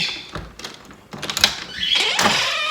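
A door being opened indoors, giving a few light clicks and thunks of the latch and panel, close by, with faint household background noise.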